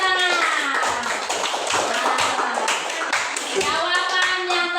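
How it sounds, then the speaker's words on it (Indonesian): Children clap their hands in a classroom as a lesson on the Hajj pilgrimage wraps up, steady overlapping claps running throughout, close and fairly loud, with children's voices and shouts mixed in. "Iya, tepuk tangan."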